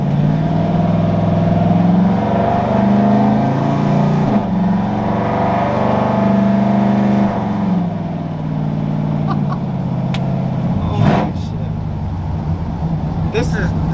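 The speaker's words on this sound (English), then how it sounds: "Sounds like a dragster. But we're riding in an old school 66 Ford." A 1966 Ford with a swapped 392 Hemi and built 46RE transmission launches off the trans brake on cold tires, giving a loud, sustained engine roar heard from inside that rises and shifts, with voices over it.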